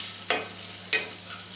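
Masala mirchi chili peppers cook on a low flame in a pan, with a faint continuous sizzle broken by two brief scraping stirs, close by and without talk.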